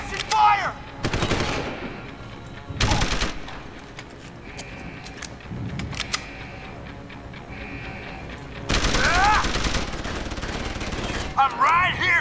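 Gunfire from the video game Deus Ex: Human Revolution comes as loud, close, rapid bursts of automatic shots, separated by quieter gaps. The longest burst runs near the end, with game voices shouting in between.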